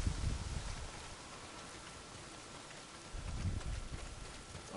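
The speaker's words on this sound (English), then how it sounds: "Well, not if it's pissing down rain." Steady rain pouring down in the video game Days Gone, a broad hiss running throughout, with a few louder gusts of patter at the start and toward the end.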